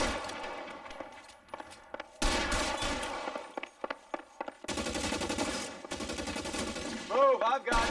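Gunfire in the video game LA Noire, with dense bursts of machine-gun fire and single shots in loud, close volleys broken by short gaps, plus game voices over the shooting.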